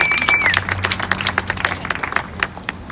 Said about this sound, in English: we just wanted to give him a round of applause as well